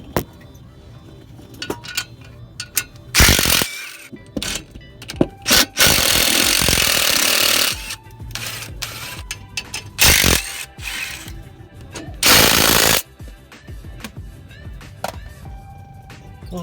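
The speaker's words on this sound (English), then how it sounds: "undo these bolts, and then the pressure plate will come off" A ratchet undoes the clutch pressure plate bolts on a rotary-engined car, giving close, loud clicking runs in bursts with brief pauses between them, alongside occasional metallic clanks.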